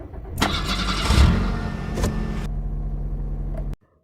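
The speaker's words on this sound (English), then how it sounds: "start the engine," A car engine cranks from cold and catches, rising into a steady idle for a few seconds before cutting off abruptly.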